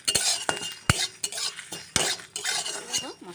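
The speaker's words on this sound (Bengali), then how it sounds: "এই মশলাগুলো কিন্তু আমি ভেজে নেব" Bay leaf and whole cumin frying in a pan for canteen-style Bengali ghugni, a soft sizzle broken by repeated sharp metal spatula clanks and scrapes against the pan.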